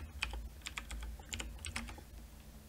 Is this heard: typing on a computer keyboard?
yes